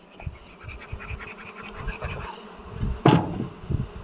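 Honey bees from strong colonies at an abandoned apiary buzz steadily up close, a dense droning hum with a brief louder pass near the end.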